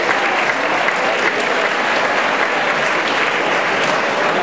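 Steady, dense applause from a graduation audience at IES Maria Enriquez, filling the whole stretch loudly and evenly with no voices over it.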